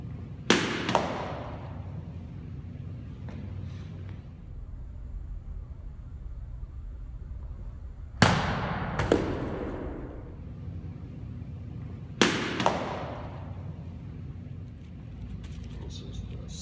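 Deepeeka Gothic longsword slicing through tatami mats in three sharp swishing cuts, each a sudden loud whoosh and thwack followed by a brief rustle of falling mat, spaced apart with quiet background between strikes.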